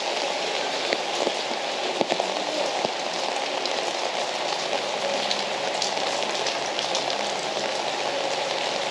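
Rain falls steadily on a street in Crimea after a storm, a dense, even patter of drops on hard surfaces heard close and alone for several seconds, with no talk.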